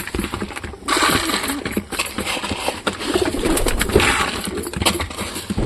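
Pigeons coo softly amid busy fluttering and shuffling, a flock active close by as they come down to feed on a farm.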